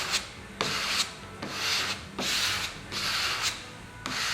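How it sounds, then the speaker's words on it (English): A squeegee drawn firmly over a vinyl graphic decal, pressing it from the center outward onto the installation surface, makes repeated rubbing swipes about every half second, close and moderately quiet, with no voices. "carefully start from the center of the graphic and squeegee out to the sides"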